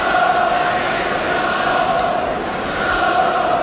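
Football crowd at Stamford Bridge, a continuous broad roar of many voices that holds steady and loud throughout with no clear break.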